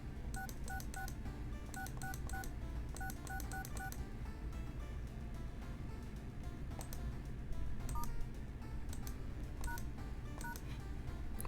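Telephone keypad tones dialing numbers in the World of Horror video game, short paired beeps in quick runs, fairly quiet over a low background hum.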